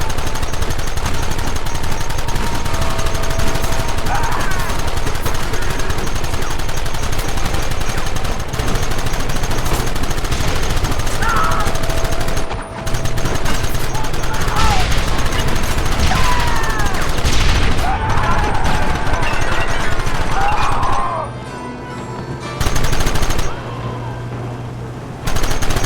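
Rapid gunfire rattles through a Red Dead Redemption shootout, loud and sustained volleys of shots with brief pauses and a sudden drop near the end, no speech over it.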